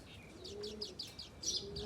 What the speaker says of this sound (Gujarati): મસ્ત મસ્ત કબૂતર બેઠા